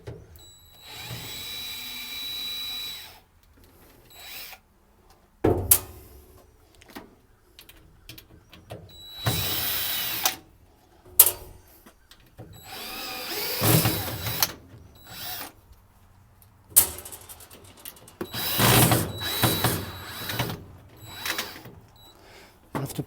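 A power drill backs screws out of the front panel of a Garland MCO-ES-10S convection oven, sounding as several separate close whirring bursts with quiet gaps and small clicks between them.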